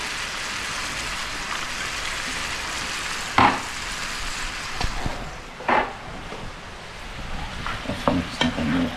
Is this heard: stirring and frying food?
yes